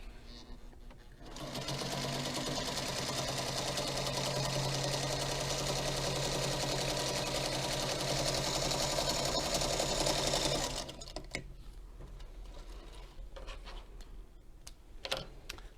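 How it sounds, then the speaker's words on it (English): A Featherweight sewing machine stitches with the needle and presser foot down, a steady close whirring run of about nine seconds that stops abruptly, followed by quieter handling sounds. "We're going to do needle down, presser foot down, and sew away"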